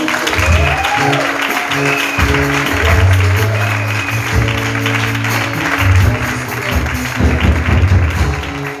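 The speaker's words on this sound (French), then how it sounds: "Acclamons pour ceux qui dévancent les gens." A church congregation applauding during a French-language healing worship service, steady clapping from a crowd mixed with rhythmic music and instruments, continuous and fairly loud throughout.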